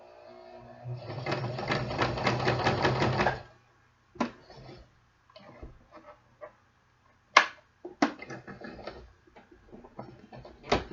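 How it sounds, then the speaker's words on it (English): A sewing machine runs steadily for about two seconds while stitching a skirt with an invisible zipper and bias-bound edge. It then stops, leaving faint handling clicks and taps from the fabric work. "So I'm going to put this back and sew this part for you."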